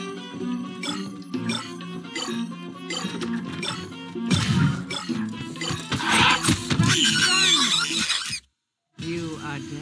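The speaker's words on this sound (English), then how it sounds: "It's an animal scream." Animal scream in the horror video game Dark Deception: loud shrill squealing cries over layered game music and noise, cutting briefly to silence before resuming.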